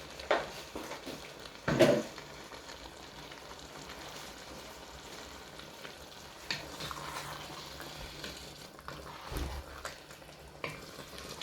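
Beef stock pours into a drying stew pot of beef, which keeps up a steady sizzle and bubble. A few sharper splashes and clinks break through near the start and later on.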